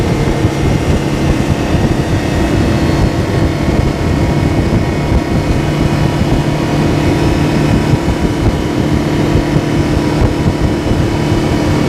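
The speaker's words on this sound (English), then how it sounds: "Trim my motor back down so we can get on plane." Outboard motor on a fishing boat running steadily at speed over a river gravel bar, a loud continuous drone with water and wind rush, no voices.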